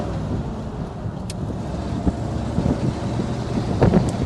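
A 1946 Mercury Eight convertible's engine runs steadily on the road, a continuous low rumble with a few brief louder swells, close and alone with no talk.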